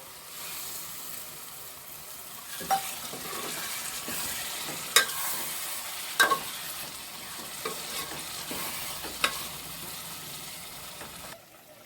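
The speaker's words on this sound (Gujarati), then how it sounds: "હવે તો એમાં આપણે થોડુંક એવું પાણી નાખી દઈએ. પછી 2 મિનિટ સડવા દઈએ." Jackfruit curry sizzles steadily in a pan after water is added, a continuous close hiss and bubble with occasional clinks and scrapes from stirring, no voices present.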